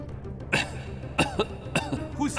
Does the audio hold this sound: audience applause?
no